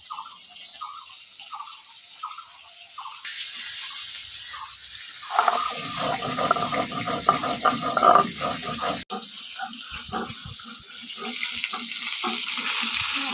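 Katla fish frying in oil in a village kitchen: a soft sizzle rises midway into louder crackling and spattering with stirring scrapes, then settles to a quieter hiss; no one speaks.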